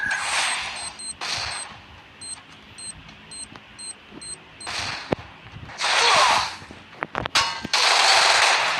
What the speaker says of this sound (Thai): มันยิงเข้าหัวเขาไม่ตาย